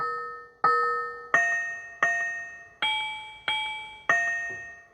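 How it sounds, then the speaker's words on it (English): Seven bright bell tones from an electric keyboard strike one after another at an even pace, each ringing out and fading before the next, clear and alone. "Tinkle bell."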